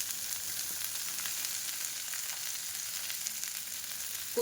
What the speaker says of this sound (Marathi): मोहरी आणि जिरे छानपैकी कडकडीत तडका झाला आहे